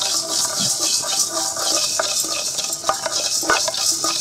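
Coriander seeds, fennel and cumin dry roasting in a pan without oil, a steady faint sizzle with stirring scrapes and occasional clinks of a spoon against the pan, alone with no talk.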